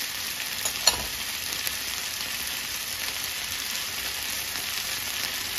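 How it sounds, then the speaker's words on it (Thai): Stink beans and kaffir lime leaves stir-fry in a pan with a steady, even sizzle and a few faint clicks of stirring. "จากนั้นเราก็จะใส่สตอลงไปเลยนะคะแล้วก็ใบมะกรูดค่ะ"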